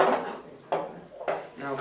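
A floppy spatula scrapes meringue into a piping bag set over a jug, three soft wet scoops with light clinks of utensil on vessel, close and quiet.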